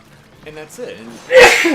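A single sharp sneeze bursts out near the end, loud and close, right after a short stretch of speech.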